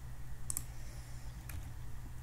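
A few scattered, light key clicks come from a computer keyboard being typed on, faint and close against a low steady hum.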